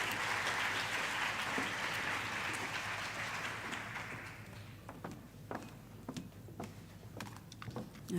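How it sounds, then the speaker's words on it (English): A crowd at a campus community safety programme event at the University of KwaZulu-Natal applauds loudly for about four seconds, then fades into scattered claps and footsteps as someone walks up. "Can we give her a round of applause as she comes up?"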